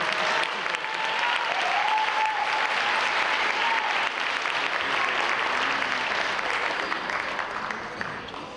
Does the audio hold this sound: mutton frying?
no